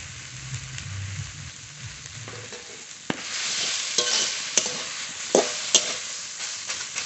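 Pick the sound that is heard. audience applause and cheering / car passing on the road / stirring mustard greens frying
stirring mustard greens frying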